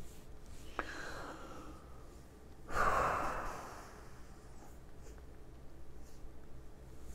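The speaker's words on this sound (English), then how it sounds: "Excuse me, Sniffle City here." A single person sniffles and snorts through the nose, one sharp intake early on followed by a louder, longer nasal sniff, close up, with quiet breathing around it and no talking.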